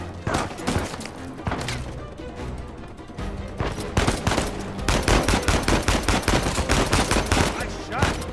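Rapid gunfire from a firefight in the video game Uncharted 4, loud bursts and single shots crackling in quick repeated volleys over a busy game soundtrack, with the pace picking up to a steady stream of shots in the second half.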